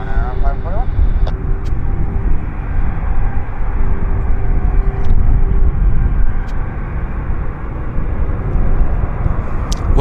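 A Lufthansa airliner rolls for takeoff on Vancouver's runway 08 right, a loud, steady broadband engine roar with deep rumble, heard at distance and unbroken for the whole stretch, with someone talking over it.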